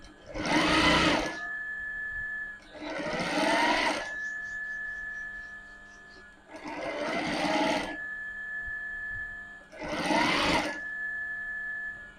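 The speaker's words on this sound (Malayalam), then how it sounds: "ഇതിൻ്റെ മുകളിൽ കൂടി ഒരു തയ്യലും കൂടി ഫുള്ള് കൊടുക്കാം" A sewing machine runs a full line of topstitching over a folded-back seam on a designer sleeve, in four separate bursts of fast, steady whirring with short pauses between them, close and clear with no talk.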